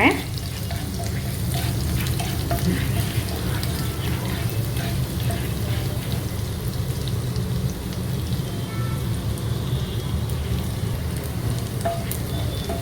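Garlic frying in a pan over a low flame gives a steady, dense sizzle that carries on without a break for the whole stretch, close and even, with no voices over it.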